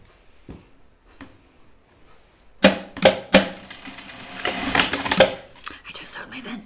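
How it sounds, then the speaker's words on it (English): Sewing machine stitching a seam on a reversible Archer button-up shirt to close the vents, with a few quiet taps and then short bursts of whirring stitches, close and fairly loud, with soft talking between bursts. "And I just sewed my vents shut."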